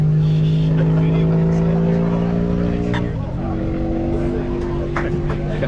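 Custom-built V12 engine running steadily in a land speed record car, a loud continuous harmonic drone with a slight pitch shift midway, heard up close.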